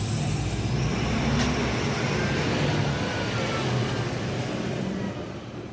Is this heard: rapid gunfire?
no